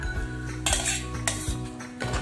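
Flattened rice (poha) is stirred into a laddu mixture in a metal pan off the heat, with scraping, clinking spoon strokes over a steady low hum, close by, with no talking.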